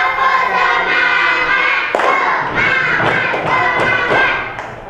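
A class of schoolchildren performs a rhythmic spirit clap, a dense burst of many hands slapping in patterned beats that loudens after the first two seconds, with faint crowd noise beneath and no talking.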